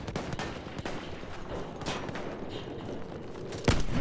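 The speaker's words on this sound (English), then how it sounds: "Machine gun, look lively!" Battlefield 1 multiplayer gunfire on Xbox One: dense, continuous bursts of shots crackle steadily throughout, with a sharper louder report near the end and no talking.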